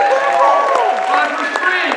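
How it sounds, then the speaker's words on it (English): A crowd at a benefit event claps and cheers in continuous, dense applause, with voices mixed through the steady noise. "we applaud Kaliko and Atsu"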